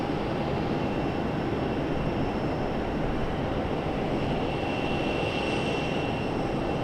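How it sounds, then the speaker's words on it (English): An Airbus A321neo airliner at Raleigh Durham airport gives a steady, distant jet roar, a broad even rumble holding at one level throughout with no other sounds. "Our masked A321neo. Coming down the hill."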